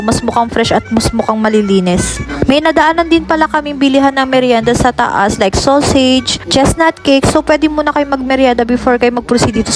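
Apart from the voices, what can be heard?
No everyday noises stand out.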